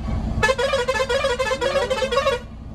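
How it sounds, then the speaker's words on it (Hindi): An aftermarket city horn fitted to an Eicher tractor honks in one sustained, loud, steady blast lasting about two seconds, with a bright, buzzing multi-tone pitch, then cuts off abruptly. "एक बार हॉर्न बजाइए ना, उसका हॉर्न कैसा है?"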